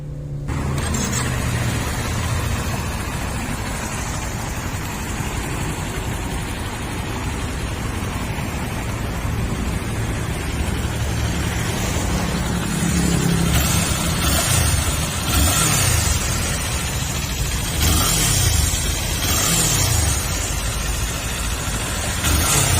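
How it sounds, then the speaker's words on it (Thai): A 2019 Kawasaki Z400 SE motorcycle engine with about 6,200 km runs at close range, holding a loud steady drone broken by several rising and falling revs in the later half, with no talking. "เดี๋ยวเราไปฟังเสียงเครื่องยนต์คันนี้พร้อมๆกันนะครับ"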